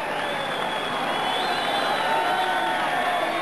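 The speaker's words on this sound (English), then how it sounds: "the whole crowd in this leisure centre at Ebervale standing and applauding and appreciating two very fine young men." A boxing crowd in a leisure centre at Ebervale, Wales, stands and applauds after a British bantamweight title fight, a dense, steady roar of clapping and cheering that fills the hall throughout.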